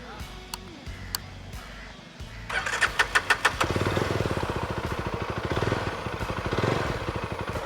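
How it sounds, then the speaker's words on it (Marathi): A Jawa 42 FJ motorcycle engine cranks with a few sharp starter pulses, then catches and settles into a steady, loud, rapid thumping idle close by, after a quiet stretch with faint clicks. "तुम्हाला मी आता गाडी चालू करून दाखवतो गाडीचं फायरिंग कसं आहे"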